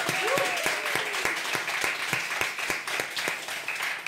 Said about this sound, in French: quelques applaudissements nourris pour Élodie et pour Paul